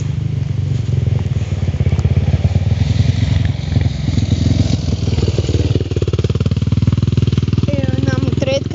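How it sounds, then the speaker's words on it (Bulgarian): A small motorcycle on a forest road rumbles past with a buzzing, rising engine note, fairly loud and close, while someone talks throughout. "Една моторетка, заминаваме горе"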